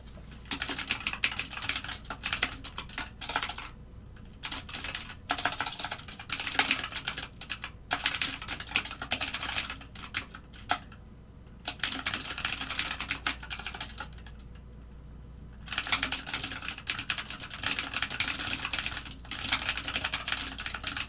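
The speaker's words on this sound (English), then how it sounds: "I need to stop typing." Steady, busy typing on a computer keyboard during a live algorithmic trading session, dense clicking keystrokes in continuous bursts with a few short pauses, fairly close and alone with no talking.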